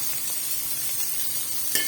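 Steady, close sizzling of desi ghee heating in a pan for sarson ka saag, a continuous crackling hiss with a brief louder pop near the end.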